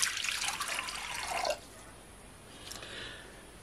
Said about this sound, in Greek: Σε ένα μπολ θα βάλουμε 2 κούπες νερό ή 500 γραμμάρια.